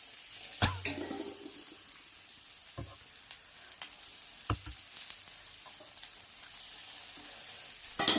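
Drumstick flowers going into softened tomatoes frying in a pan, a low quiet sizzle with a few scattered clinks and scrapes of a utensil.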